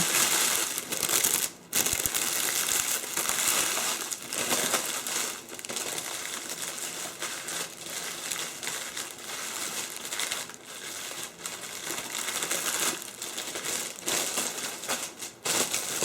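Cellophane wrap crinkles and rustles continuously as it is pulled up over a candle gift basket, close and fairly loud with a few sharp crackles and brief pauses, no voices.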